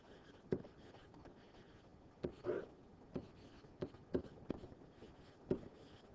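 Pen or marker strokes as someone writes out a chemistry equilibrium expression: quiet, scattered taps and short scratches close by, with no talking.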